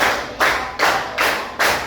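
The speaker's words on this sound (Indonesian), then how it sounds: "Tepuk 1, tepuk 2, tepuk 3, tepuk 4, tepuk 5." Five loud, evenly spaced claps ring out close by, each one sharp and full, with no voices.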